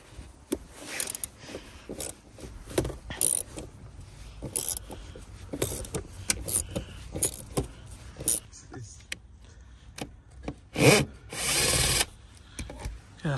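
A car seat bolt on a Vauxhall Astra K interior is unscrewed by hand with a tool, producing close, irregular metallic clicks, scrapes and short ratcheting bursts separated by quiet gaps. A louder grinding burst comes near the end.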